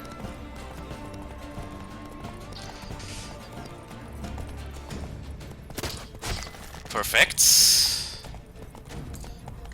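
Roach, the horse in The Witcher 3, gallops with a rhythmic hoof clip-clop beneath game music and effects, rising to a loud burst near the end, while a player talks briefly.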